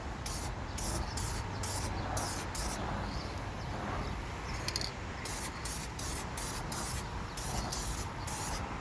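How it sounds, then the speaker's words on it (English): Clear coat sprayed from a can onto a rust-repaired rear taillight area of an R53 Mini Cooper, a steady close hiss broken by regular short bursts as the nozzle is pressed and released. "not spray all the way up to the tape line"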